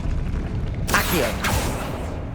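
Accio summoning spell cast in Hogwarts Legacy, a sudden broadband magical whoosh with a second swelling burst, rising tonal sweeps over a low rumbling game background.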